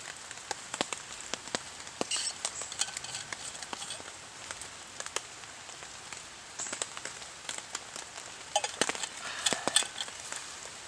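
Light rain patters on a surface on a camping morning, a steady soft hiss broken by scattered sharp drips and taps, fairly quiet and close with no voices.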